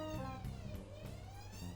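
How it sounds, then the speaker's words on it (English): Emergency vehicle sirens in the Cities: Skylines city-building game, a steady wailing tone rising and falling over a low continuous rumble, moderately loud with no talk. "we have sirens"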